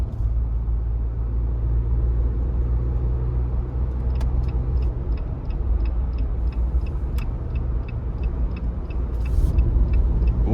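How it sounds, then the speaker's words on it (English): A 2023 Jeep Wrangler Sport S two-door with the 2.0-liter turbo four pulls onto the interstate, its engine and road rumble droning steadily while a turn signal ticks in a regular rhythm. "Now I'm gonna give it a little bit of throttle getting on the interstate"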